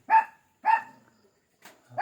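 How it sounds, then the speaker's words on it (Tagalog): A dog barks twice in sharp, loud bursts close by, followed by a fainter yip after a pause. "Sinsya na na kumakaling aso natin."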